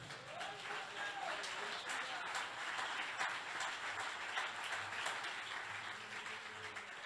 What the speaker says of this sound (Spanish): Dele aplauso al Señor, hermano.